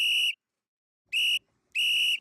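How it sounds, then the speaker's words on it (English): Three sharp, shrill whistle blasts, the first short, then a pause before two more in quick succession, each clear and alone with nothing else around them. "Blow the Whistle."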